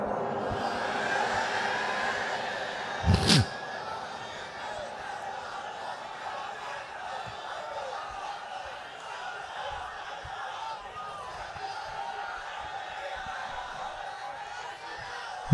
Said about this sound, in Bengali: সুন্দর তাকবীর হইছে